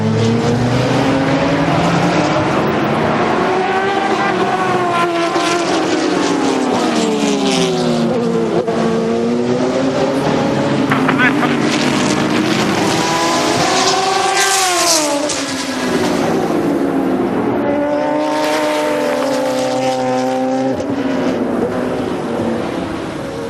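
American Le Mans Series race cars roar past on a track, several engines overlapping in loud, continuous rising and falling pitch sweeps as they accelerate and brake through the full stretch.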